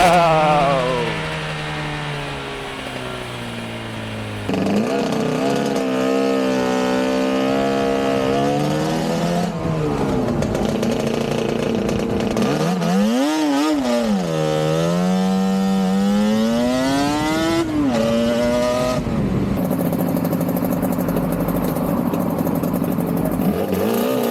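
A Suzuki RG two-stroke motorcycle with a dry clutch idles, then the clutch engages and it pulls away, the engine note rising and falling through revs and gear changes, loud and close, with no talk.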